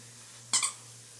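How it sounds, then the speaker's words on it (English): A dog squeaking a squeaky toy indoors, giving two quick, bright squeaks close together against a quiet room with a steady low hum. "He's squeaking his toy."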